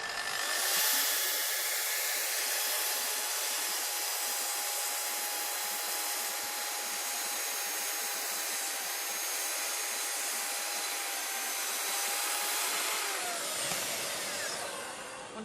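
A Festool TS55R plunge saw whines steadily and loudly as it cuts through wood for about fifteen seconds, spinning down at the end.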